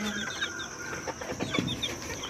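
Chickens cluck in a village farmyard in Jaffna, short broken calls and a higher squawk rising over a steady busy background of other birds and yard noise, fairly close and alone without speech.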